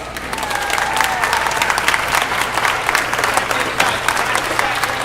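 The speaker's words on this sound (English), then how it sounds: "round of applause for Ms. Kelly." An audience at an orchestra concert applauds in a steady, full round of clapping that fills the whole stretch, loud and close, with a faint voice underneath.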